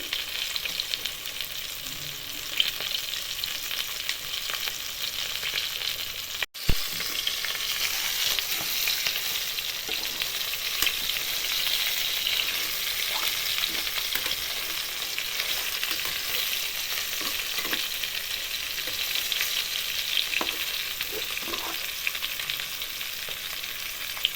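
Fish sizzling steadily in a pan of hot oil over medium gas heat, a dense continuous crackle with a brief break early on, close and fairly loud with no talking.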